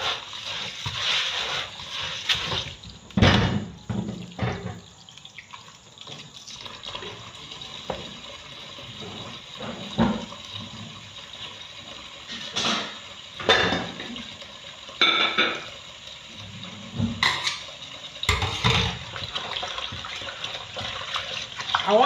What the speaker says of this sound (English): I want to wash it and remove the starch.